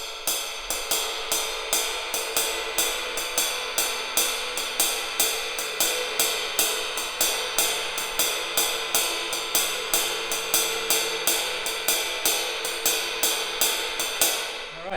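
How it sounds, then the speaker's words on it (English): Afro-Cuban 12/8 ride cymbal pattern played on a drum kit: a steady, evenly spaced stream of bright ride strokes with a regular accent cycle, close and alone for the whole stretch. "The cymbal pattern sounds like this"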